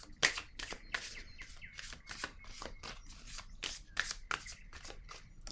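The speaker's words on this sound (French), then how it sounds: "Allons-y avec une autre carte." Tarot cards being shuffled and dealt, a quick run of crisp riffling flicks and soft slaps repeating steadily at close range, with no voices.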